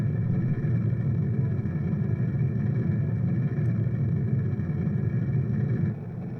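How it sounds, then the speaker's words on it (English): A rocket engine burns in Kerbal Space Program, a steady deep rumbling roar that holds constant throughout before easing slightly at the end, with no voices over it. "And we'll start these engines."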